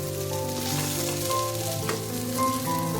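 Papad fries in hot oil with a loud, continuous crackling sizzle, up close and with no voices.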